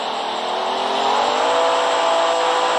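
A vehicle drives in the Roblox video game, a loud steady engine drone that slowly rises in pitch as it speeds up, with no talk.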